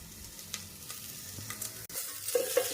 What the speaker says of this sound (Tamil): இந்த வெங்காயம் எல்லாம் பாருங்க வதங்குது